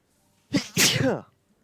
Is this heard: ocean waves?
no